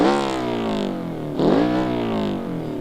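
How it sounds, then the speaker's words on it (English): A car engine in BeamNG.drive revs up and settles twice, a harmonic-rich roar that swells sharply mid-clip, heard alone with no talk. "let's check out some of the new engine sounds"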